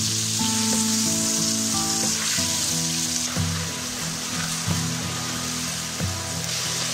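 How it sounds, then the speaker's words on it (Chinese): Eggplant stir-fried with sauce and chili peppers in a hot pan, a loud continuous sizzle with scraping and stirring clatter throughout, close up and without talk. "撒入小米椒，继续翻炒。"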